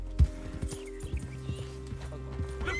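A horse gallops in the Red Dead Redemption 2 video game, with steady rhythmic clip-clop hoofbeats of moderate loudness and a faint snort, with no talking over it.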